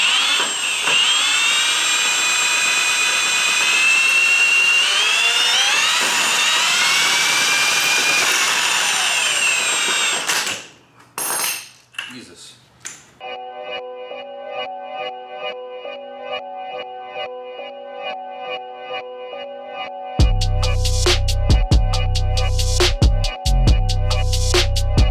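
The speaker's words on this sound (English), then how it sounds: "But we're going to spin it with the drill." A power drill spins a custom spin art wheel, giving a loud, steady whirring whine for about ten seconds, then stopping, before unrelated music fills the rest.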